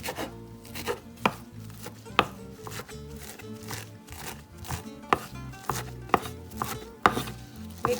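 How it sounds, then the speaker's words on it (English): A knife chops cilantro on a cutting board for Mexican street tacos, sounding as quick, irregular close knocks of the blade with soft rustling between strokes, no voices. "you're going to just chop up the cilantro in little pieces"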